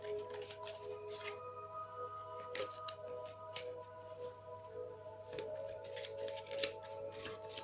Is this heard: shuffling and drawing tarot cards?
yes